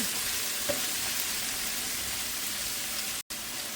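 Shrimp frying in a pan with ginger, garlic, shallots, curry leaves and green chilli, giving a dense, even sizzle that holds close and steady, broken by a brief dropout near the end, with no voices.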